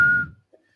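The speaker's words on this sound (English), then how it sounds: "Gotta go with the derisive Mexican whistle there" A single sharp whistle from football fans in a stadium, loud and brief, sliding off into quiet with a faint low murmur from the crowd.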